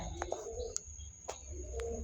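Pigeons coo softly nearby, low throaty murmurs repeating, with a few faint chirps and sharp clicks in the background.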